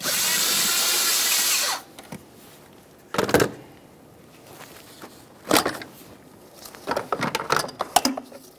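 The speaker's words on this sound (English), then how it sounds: "We're going to loosen that clamp. I'm using an 8mm." A power driver with an 8mm socket whirs for about two seconds, loosening the air inlet tube clamp on a 2012-2018 Nissan Maxima 3.5L V6, followed by several sharp clicks and knocks of handling parts.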